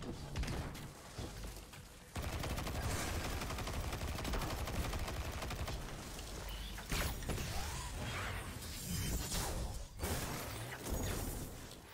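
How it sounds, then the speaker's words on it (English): Grenade launcher fire in the video game Destiny during Season of the Plunder, with dense, loud bursts of gunfire and explosive blasts that carry on almost continuously, joined by whooshing and mechanical clatter. "the grenade launcher is exactly what you think it is. It's a grenade launcher."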